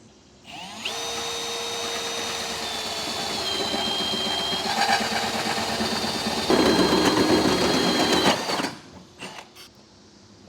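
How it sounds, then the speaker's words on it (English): A 4-inch hole saw on a drill cuts into the metal bed of a 2021 Chevrolet Silverado truck. It gives a loud, steady whine that shifts in pitch, turns rougher near the end, then stops abruptly. "Now I'll use a 4-inch hole saw to open this up."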